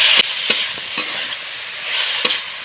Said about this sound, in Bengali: পালং শাকটা কীরকম ভাজা হয়ে গেছে দেখছো আর জল নেই